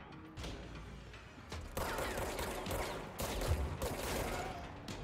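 Gunfire in the game Control, bursts of rapid shots in uneven clusters mixed with mechanical clicking and clattering, moderately loud with brief pauses between volleys.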